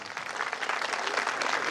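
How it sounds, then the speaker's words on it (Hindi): Audience applause at a Khimel community gathering in 2021, a dense steady burst of many clapping hands, fairly loud and sustained throughout. "तालियों में कंजूसी नहीं होनी चाहिए"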